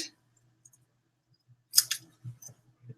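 Paper stamped with a craft design being cut by hand with scissors, a few short crisp snips spaced out over a quiet room, close and fairly faint.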